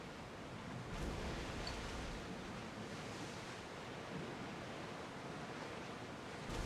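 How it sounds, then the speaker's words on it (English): Stormy sea and gusting wind aboard a ship in the video game Assassin's Creed Odyssey, a steady broadband roar of surf and wind with slow swells, constant and fairly distant with no talk. "A windy weather, a stormy weather."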